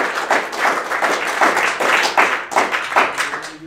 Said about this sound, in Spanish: Fuerte el aplauso a la bendita gloria